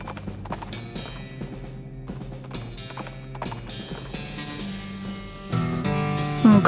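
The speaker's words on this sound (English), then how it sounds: "You hear a shout in the distance behind you and the thunder of hooves" Horses' hooves thunder at a gallop in the West of Loathing video game, a steady clip-clop pounding under a game music bed and swelling louder toward the end.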